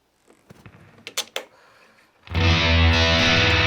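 Electric guitar played through a metal drive effect: a few quiet clicks and picked notes, then a loud, sustained distorted chord that fills the end.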